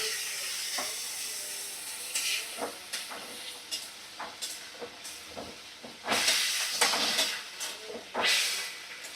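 Frying eggs and potatoes in oily masala hiss and sizzle steadily as a little water goes into the pan for egg biryani, with sharper crackles and bursts of steam throughout.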